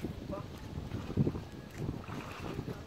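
Wind buffets a boat on a ride at sea in the provinces, gusty rushing noise hitting the microphone in uneven bursts with a faint engine undertone, and a voice speaks briefly.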